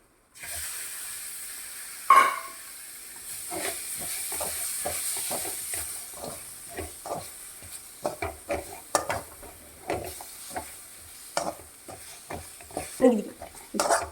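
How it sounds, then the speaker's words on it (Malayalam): Masala and tomatoes stirred in a hot pan: a continuous hiss of frying under irregular scraping and clattering strokes that grow busier toward the end, close and fairly loud, with no clear talking. "നന്നായിട്ട് ഇളക്കി കൊടുക്കുക എന്താ താഴെ പിടിക്കും അതൊന്ന് നല്ലപോലെ ഇളക്കി"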